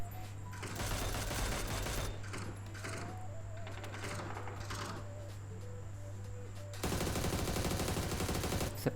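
Gunfire from PUBG sprays in rapid bursts under a steady mechanical hum, with short gaps and then a louder continuous stretch near the end, somewhat muffled and distant.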